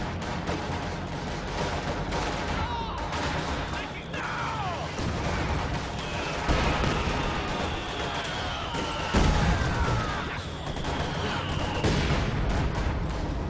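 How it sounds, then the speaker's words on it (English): Mortar and battle fire in a Company of Heroes 2 two-versus-two match, a dense continuous din of explosions and shots with whistling shells, heavier thumps around the middle, and a commentator talking over it. "Mortars firing in from every which way."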